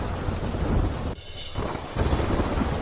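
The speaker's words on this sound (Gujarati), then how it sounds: "અરવલ્લીના માલપુરમાં ધોધમાર વરસાદ." Heavy downpour in Malpur, Aravalli, with a dense hiss of rain and rumbling thunder that briefly dips before the roar returns, no voices.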